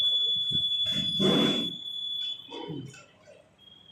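An electronic voting machine gives a long, steady beep lasting most of the moment, fading briefly near the end, with muffled voices and handling noise underneath.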